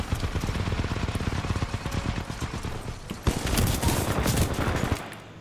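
Rapid bursts of automatic gunfire from the video game Titanfall 2, loud and dense, with a heavier overlapping barrage of shots in the latter half before it cuts off.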